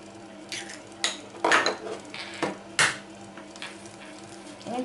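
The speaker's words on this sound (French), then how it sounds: "On va fouetter le beurre pour le rendre crémeux." Butter being whisked in a bowl for a brioche with almond cream, heard as a few scraping, clinking strokes of a whisk against the bowl, separated by short pauses over a faint background hum.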